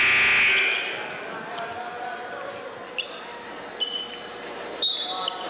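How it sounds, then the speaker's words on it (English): A high school boys basketball game buzzer sounds loudly as a sustained electronic tone over the first half second, then gives way to steady gym ambience with a few sneaker squeaks. "And the buzzer goes off"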